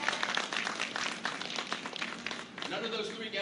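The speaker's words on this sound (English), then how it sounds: "Give them a round of applause." Applause from a Baptist church congregation at a Freedom Sunday celebration, dense steady clapping filling the room throughout, with a few voices mixed in and a brief dip near the end.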